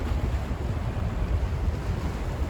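Sea waves beside a shrine in Yamaguchi, Japan, a steady low rumble of surf mixed with wind buffeting the microphone, no voices.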